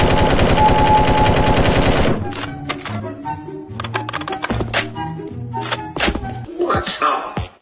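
Video game gunfire: a dense rapid burst of automatic shots for about two seconds, then scattered single shots, thunks and mechanical clacks, with a voice over part of it.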